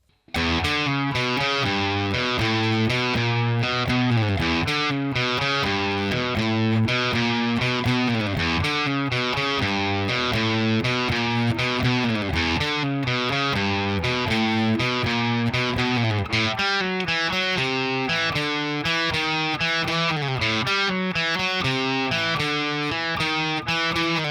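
A distorted electric guitar plays a bridge riff, a steady, repeating riff, loud and continuous, with a driving rhythmic pattern and no voices.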